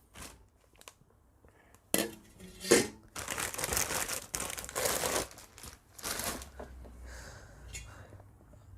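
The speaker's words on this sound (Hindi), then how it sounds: "इसकी भी पॉलीथीन को हम जल्दी से रिमूव कर देते हैं" A plastic polythene wrap is crinkled and torn away from a new 26 cm stainless steel triply kadai, sounding as loud rustling and crackling bursts with occasional metallic clinks, alongside talk.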